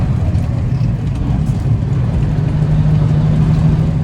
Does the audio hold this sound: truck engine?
yes